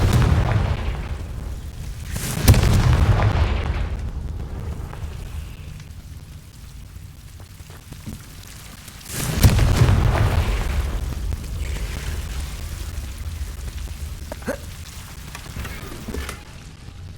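Two heavy booming blasts from the Confringo fire spell in Hogwarts Legacy, each followed by a rumbling decay, set against a soft ambient game background with no speech.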